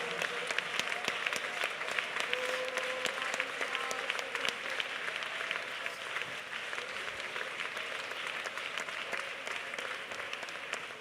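Congregation at a prayer centre clapping hands in praise, a steady dense applause sustained and fairly loud throughout, with faint voices mixed in.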